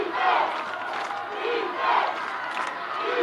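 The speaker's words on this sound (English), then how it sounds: "the crowd chants for defense" A high school football crowd at a Cretin-Derham Hall versus Roseville game chants for defense, a loud, rhythmic mass of voices rising and falling in repeated waves.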